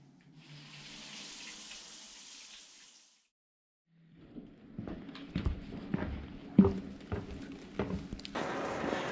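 Water runs steadily from a tap or shower in a hostel bathroom for about three seconds and then stops, followed by close knocks, shuffling footsteps and handling clatter, then a brief rush of water again at the end.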